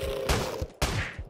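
Revolver gunfire in the video game Teleglitch: two sharp, loud shots about half a second apart, each with a short rattling tail, alongside a steady electronic drone.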